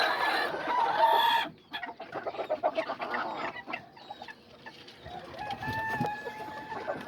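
Azteca roosters and hens cluck and squawk close by, a busy overlapping chorus of calls that is loudest at the start and continues in irregular bursts throughout.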